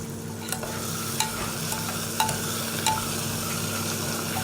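A Gujarati vaghareli khichdi masala is stirred as it sizzles in a pan, with a steady frying hiss and a few light spoon scrapes and taps, close and fairly quiet, with no voices.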